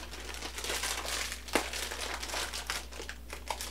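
A foil-wrapped blind box of My Hero Academia mystery mini figures is ripped open, giving a steady crinkling rustle with one sharp tearing snap near the middle and a few smaller crackles after it.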